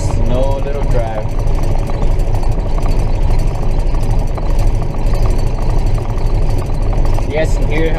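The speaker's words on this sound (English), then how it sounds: "You guys can hear how the cab's kind of rattling a lot" A John Deere 7930 tractor being driven, its engine droning loud and steady throughout with a jittery rattle from the cab riding on top.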